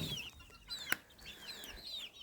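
Broody hens cluck softly nearby in short, murmuring calls, with a sharp click partway through and quiet farmyard ambience.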